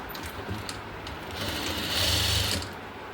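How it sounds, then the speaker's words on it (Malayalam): A sewing machine stitches a V-neck nightdress panel to its lining in a steady mechanical run of needle clatter that grows louder and faster near the end, close up with no voices. "1/2 ഇഞ്ചിൽ നമുക്ക് താഴോളം സ്റ്റിച്ച് ചെയ്തെടുക്കാം"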